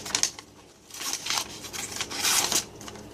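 A Zero Tolerance 0801 folding knife with an LMAX steel blade slices through a sheet of paper, short crisp rustling cuts in a few bursts, close and dry with no talk.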